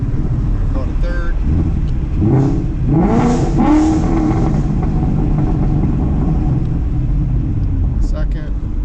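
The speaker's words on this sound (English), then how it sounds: "we'll get some revs for you, I'll let you hear the car" A Ford Mustang engine fitted with a Steeda Tri-Ax shifter rumbles loudly and close by, rising and falling as it revs, with a voice speaking over it.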